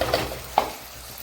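Hog plums go into boiling sugar syrup in a pot for pickle, giving a soft bubbling hiss with a couple of light clinks and a splashy thud as they drop in.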